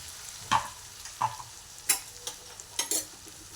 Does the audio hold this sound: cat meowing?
no